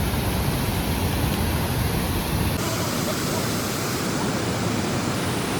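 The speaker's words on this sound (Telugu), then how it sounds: "ఒక పక్క ఈ వాటర్ ఫాల్ చూస్తుంటే చాలా అద్భుతంగా అనిపిస్తుంది" The Polluru waterfall at Maredumilli roars as a loud, continuous broadband rush of falling water, close and steady throughout in rainy weather.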